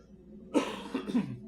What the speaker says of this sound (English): Early morning cough syndrome, not good.